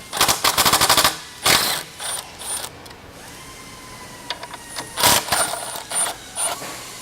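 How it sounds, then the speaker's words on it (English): A ratchet or socket wrench with a 1/2-inch socket removes bolts from the front of a lamp tree during an upper actuator replacement, giving rapid ratcheting clicks in bursts followed by scattered metallic clinks, close and fairly loud with no talking. "you'll need to use either a 1/2-inch socket or a 1/2-inch wrench, whatever you've got"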